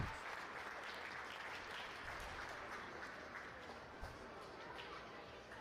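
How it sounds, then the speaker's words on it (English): Spectators at an indoor soccer match, Amarillo at Salt Lake City, applaud as two players get back up; the steady, fairly loud crowd clapping fills the whole stretch, with one brief thump near the end. "Both players up now, being applauded by the spectators."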